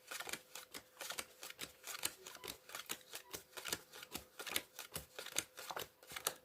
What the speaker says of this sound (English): just deal the cards into 2 piles.